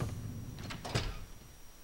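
A door in Resident Evil: Dead Aim slides open with a short mechanical whoosh and a couple of clunks, brief and moderately close, with no talking.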